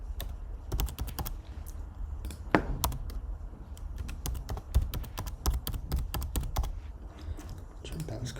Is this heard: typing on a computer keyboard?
yes